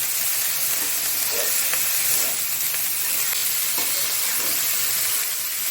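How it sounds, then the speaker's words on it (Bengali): Cabbage being stirred in hot oil in a pan, giving a loud, steady sizzle and hiss throughout with faint scraping stir sounds underneath and no talking. "বাঁধাকপিটা এই নাড়াচাড়া করলাম তেলটার সঙ্গে"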